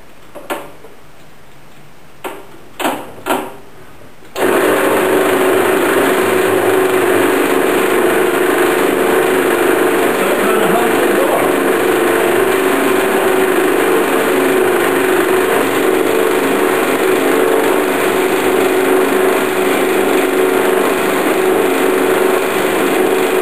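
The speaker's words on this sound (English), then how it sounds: "we can trade that out for a pilot drill" A few sharp knocks and taps, then a power drill starts boring a pilot hole in a metal bar and runs continuously at a steady high whine, loud and close, with no pauses.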